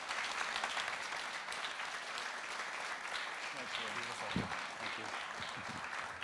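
An audience at a live-streamed event applauds the speaker Rob, with dense, sustained clapping filling the room throughout, while a voice speaks faintly beneath the ovation.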